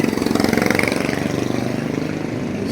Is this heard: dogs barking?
no